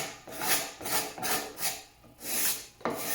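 A cabinet scraper rasps across wood in a series of short back-and-forth strokes, soft hissing scrapes close by with brief pauses between them.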